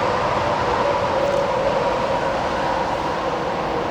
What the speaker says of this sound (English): As you can hear, we're up against this lovely interstate again